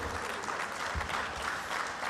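Crowd applause at a women's conference in Lusaka, Zambia, a steady, moderately loud patter of many hands clapping that carries on evenly for a couple of seconds without any talking.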